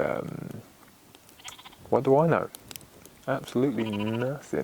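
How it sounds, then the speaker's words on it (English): Sheep bleat in a nearby field, two wavering calls in turn, fairly clear and loud, with someone speaking quietly between them. "If you can hear something in the background, it's a sheep."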